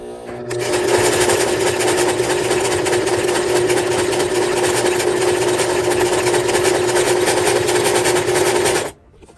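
A sewing machine runs steadily for about eight seconds, stitching a glasses case along a taped line, with a close, even motor whir and a constant needle chatter starting and stopping abruptly.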